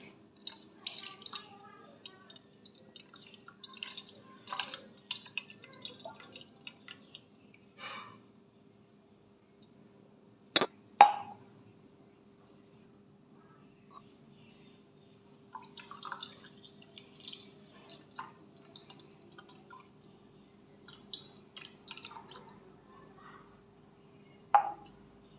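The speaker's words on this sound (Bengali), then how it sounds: "গোপাল সোনার স্নান মন্ত্র" Water drips and trickles faintly in short scattered bursts during the bathing of a small Gopal deity idol, with a few louder splashes near the middle and a low steady hum underneath.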